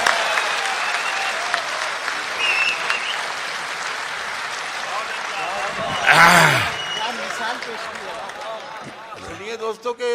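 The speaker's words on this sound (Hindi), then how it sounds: "जोरदार तालियों के साथ बुलाइएगा।" A crowd at a poetry recital applauds for a shayar, steady clapping filling the room with a brief louder swell of cheering and voices before it fades.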